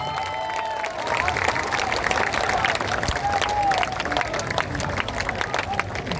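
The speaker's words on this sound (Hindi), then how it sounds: "जोरदार ताली बजाइए।" A crowd at a political party event claps and cheers loudly and steadily, a dense sustained wave of applause with scattered shouts and babble of voices mixed in.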